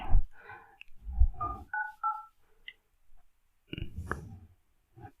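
Smartphone dialer keypad tones on a Redmi Note 7 Pro running Vsmart VOS 4.0 Android 11, a few short paired beeps in quick succession between clicks and low handling noise.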